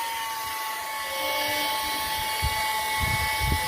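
A small electric exhaust fan hums steadily at full speed, a constant motor whine with a faint tonal buzz, close to the microphone, with some louder handling bumps toward the end.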